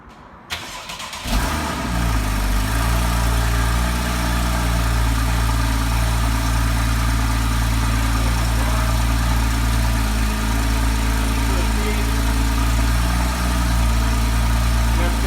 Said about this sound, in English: start the car using a stick on the brake pedal, put it into gear, and then just let it run for a couple of minutes